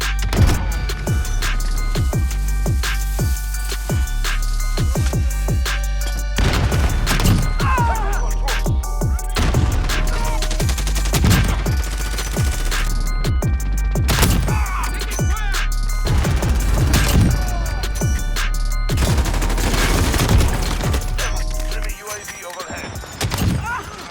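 Rapid gunfire from a Call of Duty gun game match, played on a first try with sniper kills: dense bursts of shots and impacts crackle continuously, loud and close, with game music tones running underneath until it cuts off near the end.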